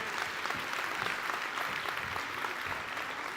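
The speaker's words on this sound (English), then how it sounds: "Hey, you guys have to clap for these women here." A crowd at a Mumbai business event for women claps for a group of honorees, a continuous even wash of many hands applauding at moderate loudness, with no voices heard.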